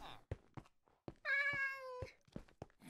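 A cat in Minecraft VR gives one clear, drawn-out meow lasting under a second, close and prominent, framed by soft thumps and clicks of gameplay before and after.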